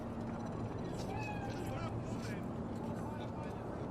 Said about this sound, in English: It's a cat like any other.